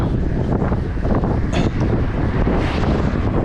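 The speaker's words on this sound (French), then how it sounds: "Il y a un peu de vent." Wind along the Canal du Midi buffets the microphone in a steady low roar with gusty swells, heard up close and alone for a few seconds.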